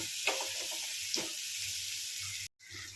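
Onions with salt frying slowly on low heat in a pan, a soft continuous sizzle with a couple of light stirring scrapes, close and steady with no talk.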